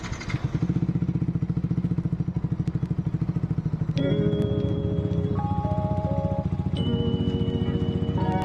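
A motorcycle engine idles while warming up, a close, steady rapid chugging pulse that runs throughout, with tonal whines and a faint melodic chime layered over it partway through.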